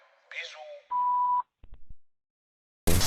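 A single steady electronic beep lasting about half a second, after a short voice snippet and followed by a few soft clicks and a sudden burst of noise.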